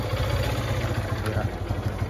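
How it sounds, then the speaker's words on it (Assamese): A motorcycle engine idles close by with a steady low rumble and rapid putter, a voice speaking briefly over it. "এতিয়া স্টাৰ্ট দিলে বাইকখন"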